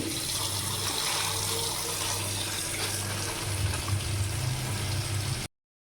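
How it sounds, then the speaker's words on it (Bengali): Water runs steadily from a tap into a container to soak fish, a loud, continuous gushing stream that stops abruptly near the end. "এই যে মাছ এখন ভিজায় রাখি"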